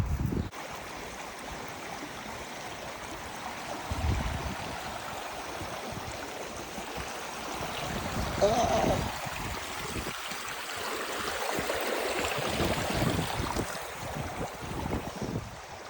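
Water in a small stream flowing beside the Appalachian Trail near Gooch Mountain, a steady broadband rush under faint wind, with a low thump at the start and no talking.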